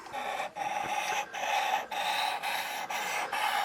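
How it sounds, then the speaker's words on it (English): A knife blade is drawn back and forth on a sharpener in steady, rasping strokes, about two per second, close and distinct with brief gaps between each pass. "So you just draw the knife or the sharpener back and forth."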